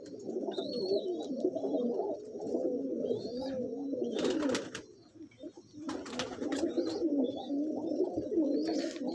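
Punjabi Malwai pigeons coo in repeated throaty rolling phrases close by, a pair of birds calling almost continuously with a short pause midway and occasional light rustles and wing flutters.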